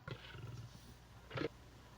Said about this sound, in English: Survey says a lion.